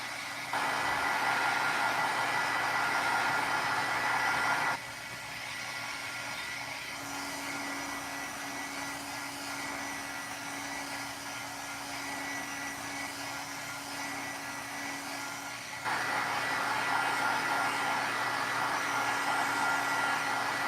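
A heat tool blows steadily over painted paper on an art journal page, a continuous whooshing drone running nearly twenty seconds with a brief dip in the middle section, close and fairly loud with no talking.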